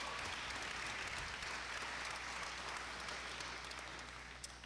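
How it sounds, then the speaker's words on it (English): Steady audience applause at a high school graduation ceremony for a military academy class, a dense continuous wash of clapping from a large crowd, fairly distant and even in level throughout. "let's give everybody a round of applause for that"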